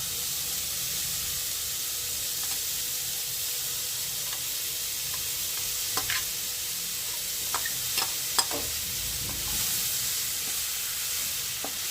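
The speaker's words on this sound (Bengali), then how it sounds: "ভালোভাবে সব সবজি আর ডাল একসাথে ভেজে নিচ্ছি।" Mixed vegetables and mung dal frying together in oil over a low flame: a constant gentle sizzle and hiss, broken by a few light scrapes and ticks of stirring, with no voices.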